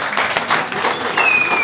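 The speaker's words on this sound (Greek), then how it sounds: "Ένα μεγάλο χειροκρότημα." Applause at a club's fifth birthday party and pie-cutting celebration, a dense crowd of hands clapping continuously at close range, loud and steady from start to finish.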